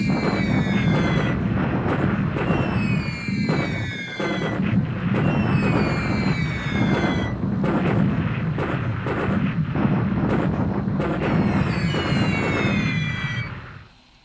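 Aircraft bombing an airbase in the War in the Pacific strategy game: a loud, continuous barrage of rumbling explosions and blasts with descending whistles from falling bombs, going on steadily and then cutting off abruptly.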